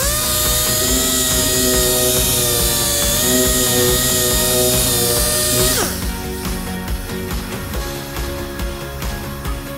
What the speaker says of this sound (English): We'll touch it up one more time with the sander.